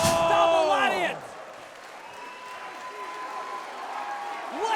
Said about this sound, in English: This live crowd on their feet. This place is rocking.